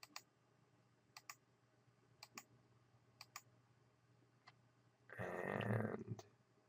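Mouse clicks while modeling a head in 3D software: faint, sharp single and double clicks spaced about a second apart in a quiet room, with a brief louder rustling burst near the end.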